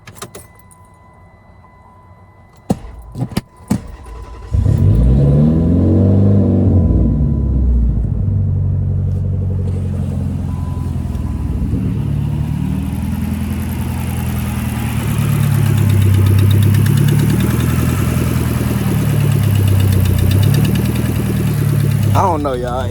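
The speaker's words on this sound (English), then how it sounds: "it sounds like a V4" A Hemi 5.7 V8 that seems off cranks over after a few clicks and rattles, then settles into a steady, loud rumbling idle up close that runs on with a slightly uneven pulse.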